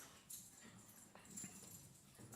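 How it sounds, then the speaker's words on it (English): Dogs whimpering and whining faintly somewhere in the distance, a few soft, high cries scattered over about two seconds of quiet indoor background. "Oh, I hear doggies."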